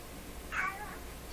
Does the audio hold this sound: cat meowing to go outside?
yes